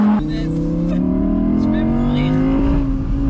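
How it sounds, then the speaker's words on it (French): An Audi RS3 engine climbing steadily in revs, a loud close rising tone with a raspy edge that holds for a few seconds, with a voice briefly audible. "Il y avait que elle qui faisait ce son moteur de ouf."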